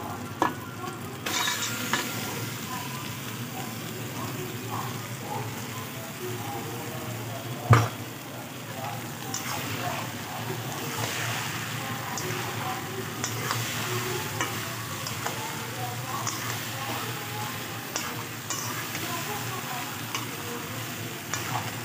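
Boiled tarka lentils are stirred and sizzle quietly in a frying pan, a soft, constant frying hiss with scraping stirs and one sharp clack of a utensil partway through.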